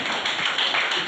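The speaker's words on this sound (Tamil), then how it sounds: "கை தட்டுமா?" An audience at a CA, CMA and CS career awareness talk claps their hands, giving a dense, continuous patter of applause that swells slightly toward the end.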